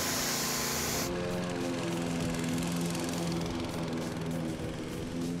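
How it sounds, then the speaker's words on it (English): A gas-powered power washer runs steadily near asphalt, its engine drone and hissing water spray continuous and loud, with a brighter hiss at the start before settling into a constant roar. "we have to turn it on before we crank up the power washer"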